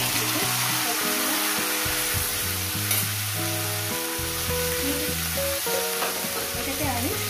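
Pieces of okra fry in hot oil in a pan with a loud, continuous close sizzle and crackle, plus scattered light stirring sounds.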